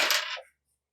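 Six dice rolled together during a tabletop game, giving a single bright clattering burst of about half a second, close and fairly loud, that stops abruptly into silence.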